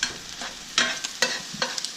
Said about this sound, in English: I'm gonna just scramble this up.